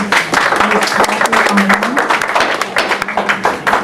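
Sharp, close hand claps ring out at a Fairfield County Council meeting, an uneven burst of individual claps while a voice talks over them.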